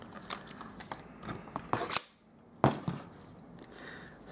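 Close, sharp slicing snaps from a paper guillotine trimmer cutting card, two crisp cuts among soft handling rustles.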